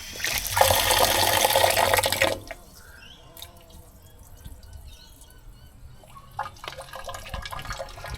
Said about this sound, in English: I'm going to show you what it looks like when the water's coming out.